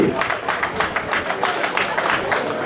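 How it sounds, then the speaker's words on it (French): A crowd applauds at a May Day union rally in Guadeloupe, an even, sustained roar of many clapping hands, dense and fairly close, with some voices mixed in. "Applaudissez-nous, messieurs"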